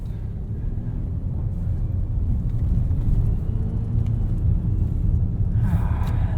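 A 2020 Volvo XC90 T6 R-Design climbing a snowy embankment, heard from inside as a steady low engine and tyre rumble that holds even throughout, with a faint sound near the end.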